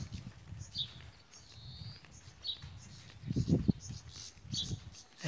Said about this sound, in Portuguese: Tu só ouve os pássaros, se liga aí.